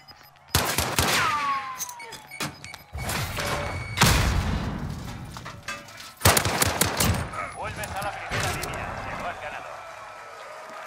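Rapid automatic gunfire and bursts of shots in the video game Call of Duty: Modern Warfare, loud and repeated in several volleys, with voices talking over the game action.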